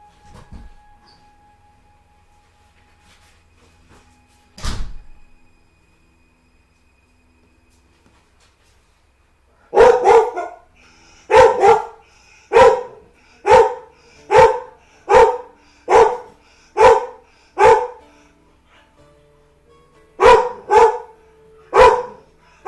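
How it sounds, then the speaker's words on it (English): A dog barks indoors: after a quiet stretch with one isolated sound, loud, close barks come in a steady rhythmic series of about a dozen, then two more after a short pause. "You weren't barking for no reason."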